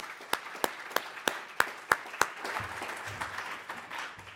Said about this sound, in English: I say give everybody a round of applause for the full day.